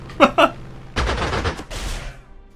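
Gunfire strafing a tank in the Panzer Corps 2 wargame: two quick shots, then a loud rattling burst of rapid fire followed by a shorter second burst, close and sharp.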